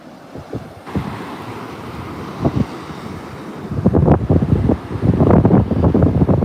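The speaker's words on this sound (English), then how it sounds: "I'll let y'all listen to the waves a little bit." Ocean waves roll onto the shore at Virginia Beach, a steady rush of surf with wind buffeting the microphone, the breakers swelling louder and denser toward the end.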